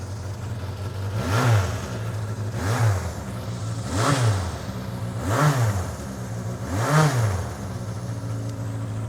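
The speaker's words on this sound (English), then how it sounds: "This bike actually has a Marshall exhaust" A Suzuki Katana sidecar motorcycle with a Marshall exhaust idles close by and is blipped in five evenly spaced revs, each swelling and falling back to a steady burble, with no talking.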